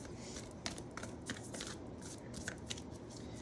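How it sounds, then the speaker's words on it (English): Tarot cards being shuffled by hand, a soft papery rustle with several brief riffling bursts close by, fairly quiet with no talking. "I have already shuffled them, but let's go ahead and give it a couple more."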